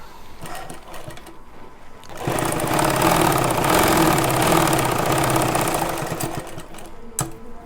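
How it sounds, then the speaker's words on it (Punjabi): Sewing machine stitching a simple pocket onto pajamas, with a steady mechanical whir that runs for several seconds at close range, set between quieter handling sounds before and after. "ਬਾਹਰਲੇ ਪਾਸੇ ਪੈਰ ਪੈਰ ਦੀ ਸਲਾਈ ਮਾਰਾਂਗੇ"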